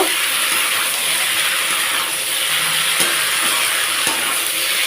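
Bitter gourd and fish heads cooking with radhuni seed paste in a pan give a loud, dense, unbroken sizzle, with an occasional faint knock of the stirring utensil.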